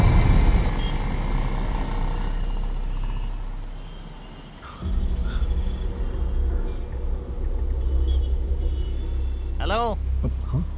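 A car engine rumbles at idle, dips briefly, then swells again as the vehicle pulls away, with a short whooshing sweep near the end; no clear speech.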